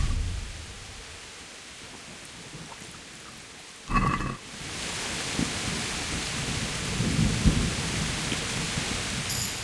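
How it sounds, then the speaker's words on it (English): Thunderstorm in the video game Kingdom Come: Deliverance: steady rain hisses throughout, broken by one sharp thunder crack near the middle, followed by a rolling rumble under the continuing downpour. "The storm."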